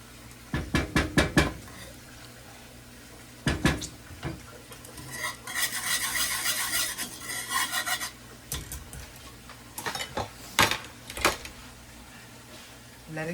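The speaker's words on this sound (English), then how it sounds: "You're gonna make sure you always stir." Masamorra thickening and boiling in a pot is stirred with a utensil, giving close, loud clattering knocks in quick bursts and a longer stretch of steady scraping against the pot, with faint talk in the background.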